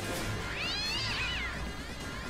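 Several cats meow in the South Park video game, a rising and falling wail over dense game noise and background sound, fairly loud and steady, with no speech.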